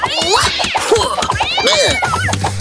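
A cat meows loudly and insistently up close, with several drawn-out, wavering cries in a row.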